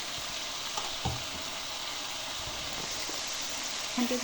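Masala frying and sizzling steadily in a pan while cooking dhaba-style daal chana, a continuous close hiss with a few faint clinks of stirring and a light knock near the end.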